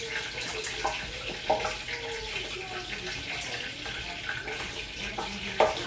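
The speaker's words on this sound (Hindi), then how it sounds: "ये अब गर्म हो गया, चिकन डालेंगे।" Raw chicken goes into a hot pan for a tomato chicken dish and sizzles with a steady, hissing crackle, with scattered clinks and spatters over the frying throughout.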